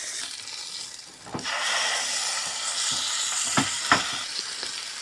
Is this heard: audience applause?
no